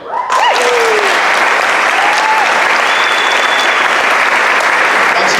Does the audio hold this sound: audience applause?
yes